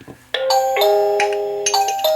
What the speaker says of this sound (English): So anytime someone rings the bell, my phone goes off as well as the bell inside.